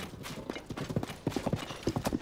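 Horse hooves clip-clop in a fast, uneven gallop rhythm in The Legend of Zelda: Tears of the Kingdom, loud and close and running throughout.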